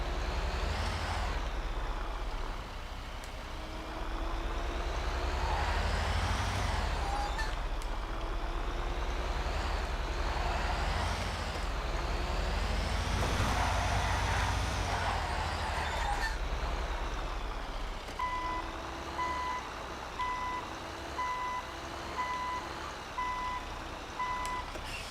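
A video-game truck rumbles and maneuvers to park, with air brake hisses and a steady run of evenly spaced reversing beeps near the end, all loud and close without talk.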